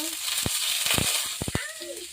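Ginger sizzles as it is sautéed in a frying pan for a Filipino vegetable dish, giving a steady hiss broken by several sharp clacks of a utensil against the pan.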